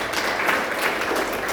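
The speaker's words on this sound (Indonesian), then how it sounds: "Berikan tepuk tangan bagi Tuhan." Church congregation applauding at a GBI worship service, a dense steady patter of many hands held at an even level throughout the short burst.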